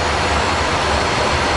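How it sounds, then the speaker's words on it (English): A Boeing 777-200's auxiliary power unit runs loud and steady, a continuous turbine roar and whine that fills the clip with no breaks. "This is our APU."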